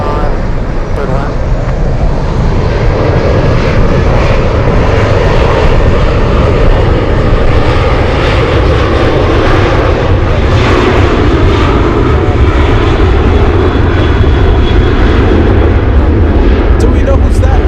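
A Boeing 747 heavy jet lands on runway 15 at Anchorage in gusty wind, its engines a loud, continuous roar that fills the whole stretch, with voices talking beneath it.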